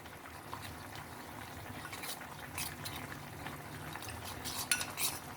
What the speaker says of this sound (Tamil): ஆட் பண்ணிவிட்டு நல்லா கட்டி இல்லாமல் இந்த மாதிரி மிக்ஸ் பண்ணிக்கோங்க.